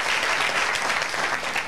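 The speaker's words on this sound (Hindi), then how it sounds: "ताली बजाओ इसके लिए" Students in a JEE/NEET coaching classroom break into steady, dense applause that carries on without a break for the whole short stretch, loud and close with no speech over it.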